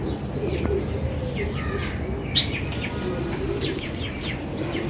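Pigeons coo softly in a breeding loft as a hen circles to lay eggs, with low steady cooing throughout, scattered chirps from other birds and a brief sharp knock partway through.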